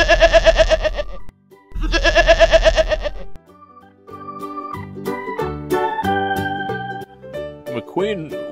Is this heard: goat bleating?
yes